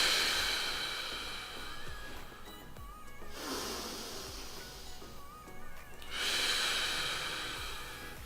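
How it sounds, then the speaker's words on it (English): Slow, deep breaths taken for abdominal bracing before a lift, each a long airy inhale or exhale close to the mic, with quieter pauses between them. "I'm gonna go ahead and go through a few breaths"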